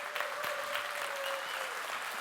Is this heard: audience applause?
yes